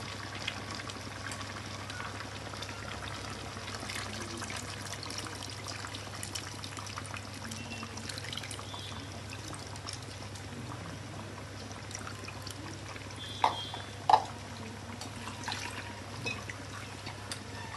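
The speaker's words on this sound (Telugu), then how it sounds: "ఇప్పుడు చింతపండు పులుసు వేసుకుందాం" Tamarind juice trickles into a simmering fish curry in a low, steady liquid pour with faint bubbling, plus two brief sharp clinks near the end.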